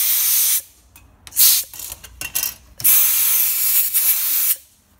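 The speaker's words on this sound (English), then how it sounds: "Let's grab that compressed air again. Just make sure it's dry." Compressed air blasts loud, close hissing bursts over brake parts to dry them, with a long spray, several short choppy puffs, then another long blast.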